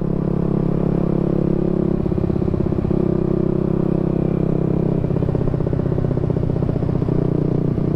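A motorcycle engine fitted with an aftermarket exhaust and a V-Power filter rumbles loudly and steadily up close, a continuous throaty idle with slight fluctuations and no talking.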